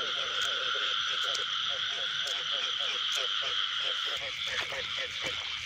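Field frogs croak at night in a wet paddy during rain, a dense, steady chorus of rapid pulsing calls that carries on throughout, with a constant insect-like drone behind it.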